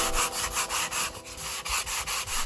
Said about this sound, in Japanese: サンドペーパーは180番を使っているんですが、全然力入れずに研磨してます。